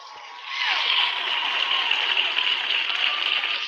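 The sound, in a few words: hand claps sound effect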